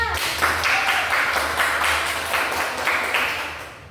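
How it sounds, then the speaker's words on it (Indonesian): A group of students in a classroom clap together in a steady, dense burst of applause that fills the whole stretch and tapers slightly at the end. "tepuk tangan dulu buat kita semua"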